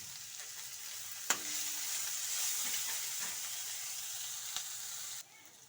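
Chutney mixture with peas frying in a pan, a steady broadband sizzle running close and loud for about five seconds, with a couple of sharp scraping stir clicks before it cuts to quieter background.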